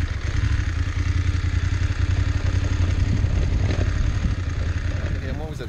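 A BMW GS motorcycle engine pulls steadily up a climb off-road, a loud, continuous mid-pitched drone with clattering texture, while someone talks over it throughout.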